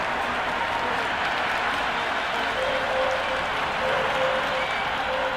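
Crowd in the cricket video game Cricket 26 roaring and applauding continuously, a dense, loud, even wall of cheering and clapping that holds steady throughout with faint tones on top.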